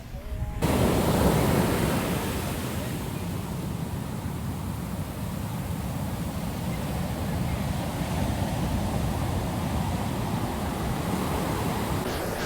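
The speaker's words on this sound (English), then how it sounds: "I'm going to show you some waves, guys." Ocean waves at La Punta beach in Puerto Escondido roll in as a steady, broad surf roar that holds loud and continuous for about twelve seconds with no voices.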